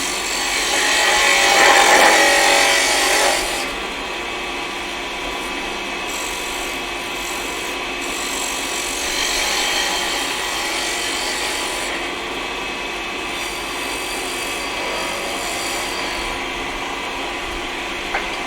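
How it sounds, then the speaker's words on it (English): A spindle gouge cutting wood on a lathe while turning a wooden snowman, a steady close scraping and hissing with a brighter, louder cut at the start that settles into a continuous even rasp. "Use a little bit bigger spindle gouge."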